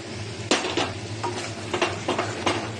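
Spice paste hits a pan of hot oil with masala and fries, a sudden sizzle followed by scraping stirs and intermittent crackling bursts, close and steady over a low background hum.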